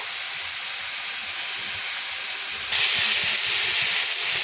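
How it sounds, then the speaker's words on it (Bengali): Water with mustard paste poured into a hot pan of lightly fried mixed vegetables gives a steady, close hiss that grows louder and harsher partway through, with no voices. "এবার এটাতে আমি জল দিয়ে দেবো"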